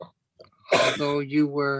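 A single sharp sneeze bursts out close and loud, with talking just before and right after it.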